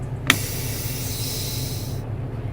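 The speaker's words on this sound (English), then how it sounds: "First, I will release the parking brake." A truck's parking brake lets go with a sharp click, then a steady loud air hiss that runs for nearly two seconds and cuts off, over a low idling engine.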